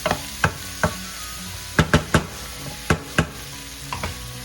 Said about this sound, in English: Sauteing them in high heat, folks.